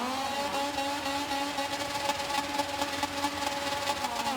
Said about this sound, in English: We rev the engine up.